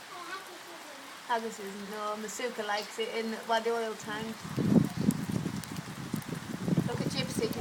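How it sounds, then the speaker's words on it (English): Heavy rain pours down steadily outdoors, a dense hiss of drops pattering on surfaces that grows louder after a person speaks briefly over it. "It is absolutely chucking it down."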